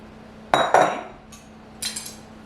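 A spoon scraping and clinking against a baking pan while spreading peach cobbler mixture, two sharp scrapes close together, then a faint one and a final pair of clinks, close and clear with no talk.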